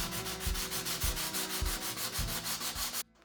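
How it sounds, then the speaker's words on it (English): Fine grit sandpaper is rubbed lightly over a wooden table in steady back-and-forth strokes, a close, even scratchy rasp that continues until it stops just before the end. "I just lightly sanded it with a very fine grit sandpaper"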